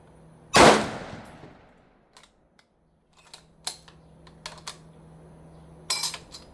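An M1 Garand rifle loaded with slow-burning powder and a greased operating rod fires one loud, sharp shot at a target, followed by quieter scattered metallic clicks and handling noises.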